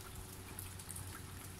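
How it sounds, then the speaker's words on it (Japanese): Light rain falling steadily outdoors at an empty house, a soft, continuous patter of drops at a faint, even level. "今日はちょうどよく雨降ってるんで"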